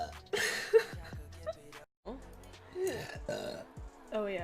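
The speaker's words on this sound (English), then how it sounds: "How many burps in a row can I do?" A woman does a run of loud close burps one after another, several long croaking belches separated by short pauses, mixed with chuckling and bits of talk.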